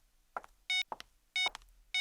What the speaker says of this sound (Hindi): नितिन फोन क्यों नहीं उठा रहा है?